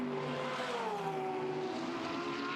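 GT3 race cars, a Ferrari and a Porsche, racing at Shanghai International Circuit, with steady loud engine drone and shifting harmonic pitch as they run close together, no voices.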